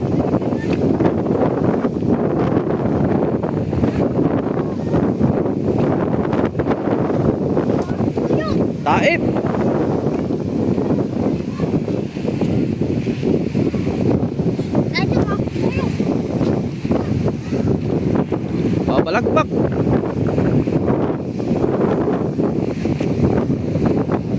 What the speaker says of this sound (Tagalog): lumakas na ang alon lumakas na ang hangin